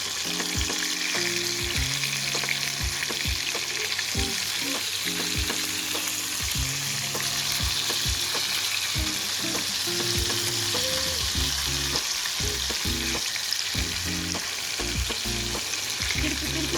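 Green chicken pieces sizzle and crackle steadily in a hot frying pan, with repeated scraping and turning sounds as they are stirred and flipped, loud and close with no talking.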